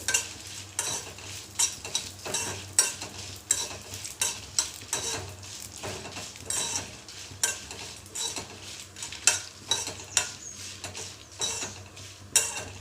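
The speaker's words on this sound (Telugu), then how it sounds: "మిరగాయలు ఊరికినే వేగిపోతాయి, మరీ నల్లగా వేగనివ్వద్దు." Chillies sizzle in a hot pan while a spoon scrapes and stirs in a steady rhythm of repeated clinks, as chillies fry for a stuffed brinjal spice mix.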